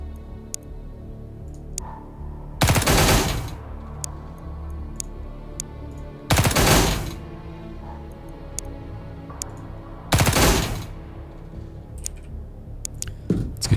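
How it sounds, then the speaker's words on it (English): Three short bursts of gunfire in the Xenonauts 2 game, spaced a few seconds apart as suppressing fire, each a dense loud rattle over quiet ambient ticking. "we're gonna do some more burst fire"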